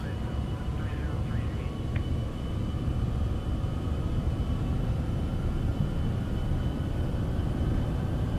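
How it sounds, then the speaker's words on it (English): A Citation X business jet's engines at takeoff thrust in a flight simulator give a loud, steady, broad rumble and roar that runs unbroken throughout, with a faint whine on top. "let's set takeoff power here. Takeoff thrust set."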